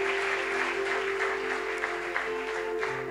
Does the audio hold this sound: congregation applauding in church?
yes